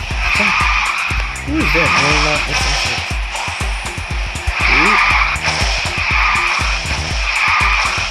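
Tires squeal in long, loud skids as a car drifts in Garena Speed Drifters, the screech rising and fading in repeated waves under engine noise while a voice speaks briefly.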